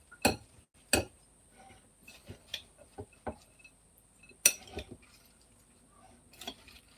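Salad being stirred in a big bowl with lime in the mix: a sparse run of sharp clinks and taps as utensils knock the bowl, quiet and close, spaced irregularly with pauses between.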